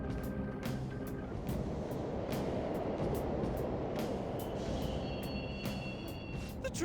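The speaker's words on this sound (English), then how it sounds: "The trains are totally running!" Subway trains run in the Persona 5 Royal game, a steady low rumbling drone with faint metallic clicks and squeals, moderately distant and without talk.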